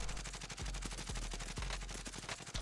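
Gunfire in the video game Warzone, rapid bursts of automatic shots in a fast, steady rhythm, fairly quiet and distant-sounding across the whole stretch.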